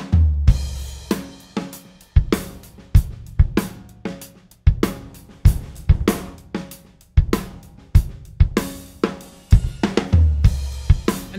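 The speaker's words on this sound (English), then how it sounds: "So the total drum set now sounds like this." Full acoustic-style drum kit mixed with an AI plugin: punchy kick and snare hits with crisp cymbals in a steady groove, loud and up front with no voices.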